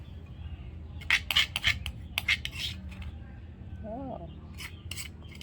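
Pork ribs are tossed in a marinade, producing a run of close, scraping clinks and rubbing sounds, then a brief voice and a few more scrapes.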